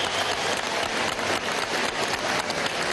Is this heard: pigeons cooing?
no